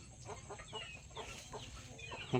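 Chickens cluck near a rice field in rural Thailand, a steady run of short, soft clucks from close by over a low background hum, with no speech.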